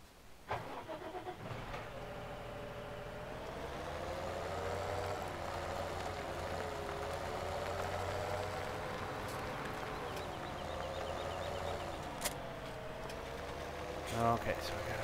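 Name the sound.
tractor engine idling in Farm Sim video game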